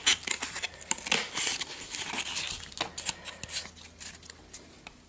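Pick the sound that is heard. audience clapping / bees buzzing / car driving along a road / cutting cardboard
cutting cardboard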